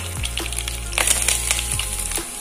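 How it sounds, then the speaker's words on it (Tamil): Chopped garlic sizzles steadily in hot sesame oil in a pan, a continuous frying crackle with a few brighter bursts as pieces hit the oil, close and alone with no talk. "அடுத்து நம்ம நறுக்கி வச்சிருக்க பூண்டு சேர்த்துக்கலாம்."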